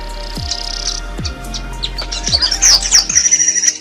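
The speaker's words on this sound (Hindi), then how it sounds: "ये लो, वीवर पक्षी ने घोंसला बनाने का ऐसा तरीका खोज लिया है" Weaver birds chirp in an African savanna, a near chorus of bright, rapid tweets and trills that build and grow louder toward the end, with no talking.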